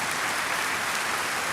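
Broad, steady applause from a graduation ceremony crowd for a Texas Department of Public Safety trooper class, a dense even wash of many hands clapping at moderate distance with no voices over it.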